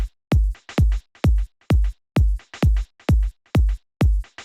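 A programmed skippy drum loop from a track: punchy kick-like hits in an uneven, skipping rhythm with varying velocities, crisp and upfront, about nine hits over a few seconds, with no voices.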